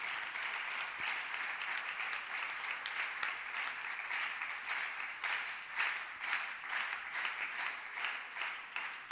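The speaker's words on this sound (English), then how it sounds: "So sir deserves a much bigger round of applause for these achievements." An audience at an International Actuaries Day event applauds steadily, a dense patter of many hands clapping at moderate distance for about nine seconds, with no voices.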